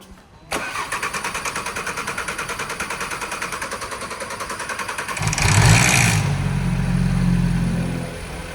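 A repaired car's starter cranks the engine in a long, rhythmic chugging run before it catches and roars to life, revving loudly and then settling into a rough, steady idle.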